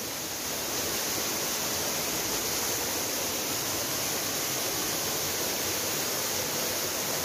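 Water of the Macacu River pouring down a waterfall at its normal volume, a dense, steady roar with no breaks, filling the scene at a moderate level and with no voices.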